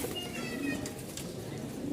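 A male pigeon of a colour-matched Rajshahi pair calls with a low, steady coo over a constant background hiss, close by and moderately loud for about two seconds.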